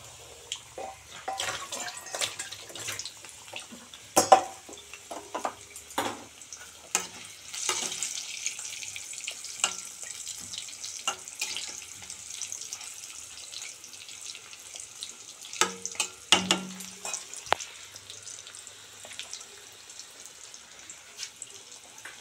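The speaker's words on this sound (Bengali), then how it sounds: "আমার আলু ভাজা মোস্ট প্রবলি হয়ে গেছে। এটা হচ্ছে চন্দ্রমুখী আলু।" Chandramukhi potatoes frying in a pan at home, a steady soft sizzle with scattered pops and clinks of stirring running throughout, fairly quiet and without talk.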